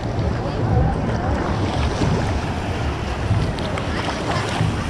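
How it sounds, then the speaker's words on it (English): Waves surge through a water park wave pool, a loud, continuous broadband wash and roar with wind buffeting the microphone throughout. "Look at these waves."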